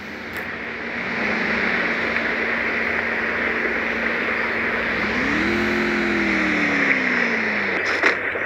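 A car engine drives steadily in the Free Fire video game, a continuous loud hum that holds for several seconds and then rises in pitch as it revs up near the end.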